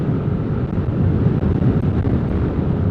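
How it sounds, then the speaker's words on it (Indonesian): Loud, steady wind roaring and buffeting against the microphone on the north coast road of Madura, a dense low rumble with no pauses. "Lumayan kencang anginnya."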